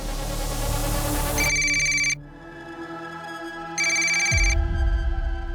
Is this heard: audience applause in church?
no